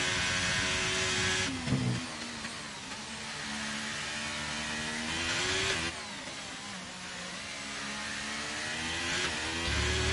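A Ferrari race car in a racing video game at Silverstone drives with its engine whining high, revving up through gears and dropping on shifts, loud and near with no speech.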